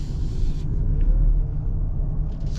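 A 2025 Ford Bronco Sport Outer Banks SUV engine, sounding odd on a cold day, gives a steady low rumble that fills the clip, droning continuously at moderate level with no speech over it.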